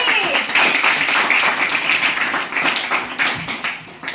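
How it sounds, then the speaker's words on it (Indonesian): A classroom of students claps for a classmate during a math lesson, a dense, steady patter of many hands filling the room for about four seconds, loud and close, with a few voices mixed in. "Tepuk tangan untuk Angel"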